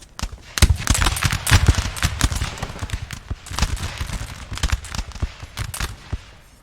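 A long musket volley rolls across a Napoleon Total War multiplayer battlefield, many sharp shots popping in dense, uneven clusters for several seconds, a crackling fusillade from massed infantry, some shots near and loud, others farther off, with no voices.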